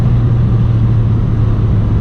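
A 2016 Ford Fiesta ST's engine drones loudly and steadily as the car accelerates to pass, a constant low hum with road roar filling the cabin.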